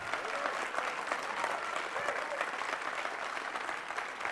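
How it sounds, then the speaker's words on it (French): Steady, dense applause from a large crowd continues throughout without a break. "S'il vous plaît, donnez-lui une bonne main d'applaudissement."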